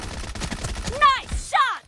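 A short burst of automatic gunfire in the mobile shooter BGMI, rapid shots in quick succession, followed by short chirping game interface sounds.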